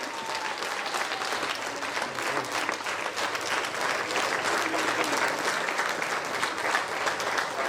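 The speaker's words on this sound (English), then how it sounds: "Big round of applause first time." Steady audience applause at a speech event honouring a co-trustee of Saibisa, many hands clapping continuously and fairly loud for several seconds with faint crowd murmur underneath.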